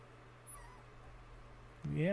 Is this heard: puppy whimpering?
yes